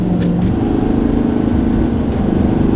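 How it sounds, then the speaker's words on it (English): An L5P Duramax diesel truck pulls hard on a highway, a loud, steady engine drone with a rising tone under constant road and wind roar, heard from inside the cab. "yeah, we're gonna do a highway pull now"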